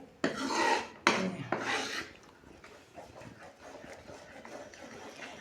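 Gram flour roasting in a pan for besan kadah is stirred with rasping scraping strokes, loud at first and then settling into a softer, continuous rub.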